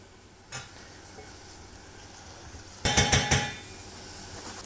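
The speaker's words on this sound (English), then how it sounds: "just going to sweat this down gently in a little bit of butter" Mushrooms softening in a little butter in a pan, with a faint, steady sizzle broken by a single clink and then a cluster of sharp scraping stirs against the pan.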